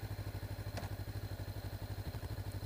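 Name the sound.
Honda CB500X motorcycle engine starting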